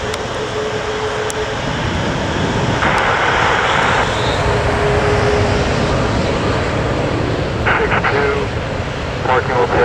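Four Lakenheath F-15 fighter jets departing RAF Mildenhall create a loud, sustained roar that fills the whole stretch with swelling, rumbling jet thrust, while faint voices sound in the background.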